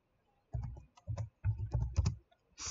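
Someone typing on a computer keyboard while entering an order form, with several short bursts of close, soft key taps separated by brief pauses, clear against a quiet background.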